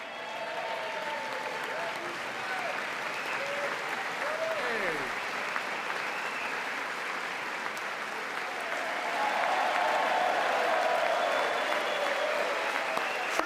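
Sustained applause fills a Congress chamber during a joint session address, a broad crowd roar that holds steady and swells louder near the end, with voices talking over it.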